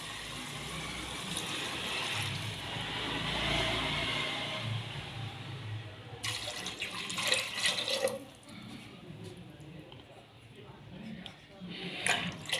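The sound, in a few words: water being poured into a cooking pot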